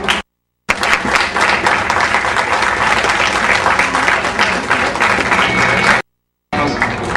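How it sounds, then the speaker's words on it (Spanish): A live concert crowd applauds a band, dense clapping sustained at a loud level, broken by two short silent gaps before resuming. "Gracias amigos y un aplauso."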